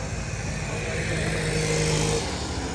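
A motorcycle engine drones steadily close by on the island of Lesbos, a continuous broadband roar with a low hum that swells slightly toward the end.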